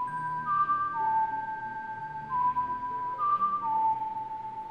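A character in Ocarina of Time on the Nintendo 64 whistles Zelda's Lullaby, a slow, clear melody of long held notes that step up and down, loud and close over a quiet game background.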